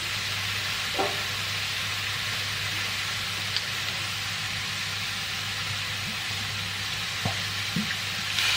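Oyster sauce poured into a hot pan, giving a steady, even sizzle and frying hiss that runs the whole time, with a few faint clinks and stirring touches.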